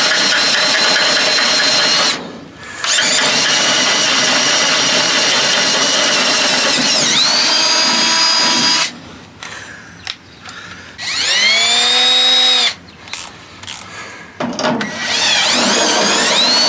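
A step drill bit bores through metal on a Chevy C50 truck, a loud grinding, ratcheting whir running several seconds, pausing, then resuming in short bursts with brief silences between.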